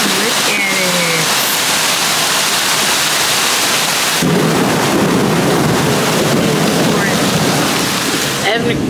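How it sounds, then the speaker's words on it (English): Heavy rain pours down outdoors in a steady, dense wash that fills the whole clip, getting noticeably louder partway through, with no talking over it. "it is pouring down raining"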